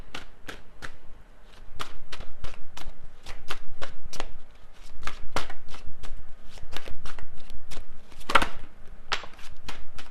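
Tarot cards being shuffled by hand, a close, loud run of repeated riffling and snapping bursts in a steady rhythm, with no talk.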